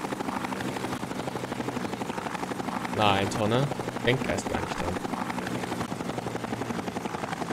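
A rescue helicopter in the Mission Luftrettung video game gives off a steady whirring drone that runs the whole time beneath casual German conversation.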